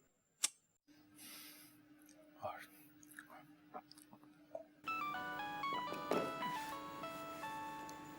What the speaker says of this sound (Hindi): अब्बू का फोन आ रहा है।